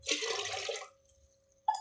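Water poured from a lota into rice flour for a jaggery dish, a short close splashing burst that fades out, followed by a brief second splash.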